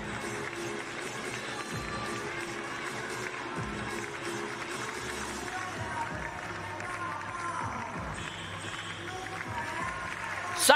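A stadium crowd at the Paris 2023 Para Athletics World Championships evening session keeps up a constant broad roar and murmur throughout, fairly distant and steady, rising slightly at the very end.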